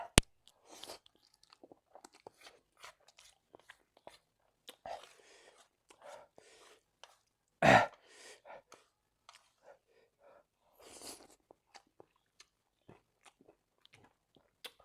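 Crunchy Nissin yakisoba instant noodles being eaten, close crisp bites and chewing in scattered bursts with quiet gaps, one louder crunch midway.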